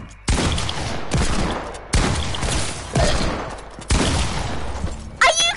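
Bursts of video game gunfire, several in a row at roughly one-second intervals, loud and close, with a brief shattering or electronic flourish at the end.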